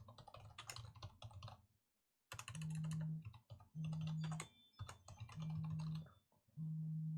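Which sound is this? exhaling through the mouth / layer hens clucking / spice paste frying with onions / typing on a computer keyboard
typing on a computer keyboard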